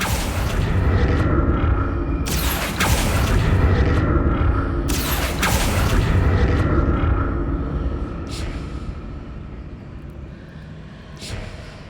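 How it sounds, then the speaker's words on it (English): A magic spell bursts in Hogwarts Legacy with two loud booming whooshes, followed by a lingering rumbling roar that slowly fades, with fainter crackles near the end. "What did that burst of magic do?"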